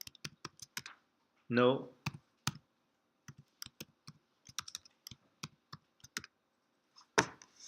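Computer keyboard typing during a Python lesson: bursts of crisp, close key clicks in uneven rhythm, with a brief spoken word partway through.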